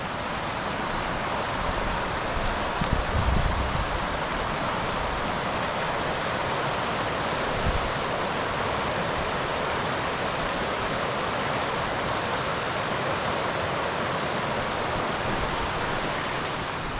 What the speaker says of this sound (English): Anyway, here's the water feature